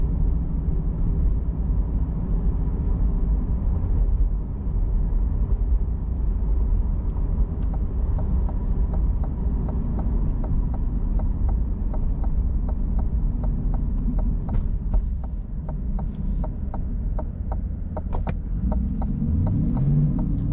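A 2020 Chevrolet Corvette Z51 3LT out on a drive, its engine and road noise a steady low rumble from inside the car, with faint ticking and clicks over it and no talk.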